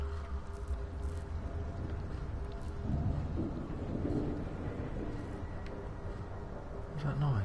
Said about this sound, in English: Sounded like thunder.